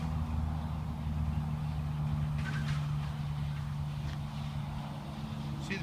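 A 1994 Pontiac Firebird Trans Am cruises on the road, a steady low engine drone with road and wind noise heard from inside, continuous throughout with no talking.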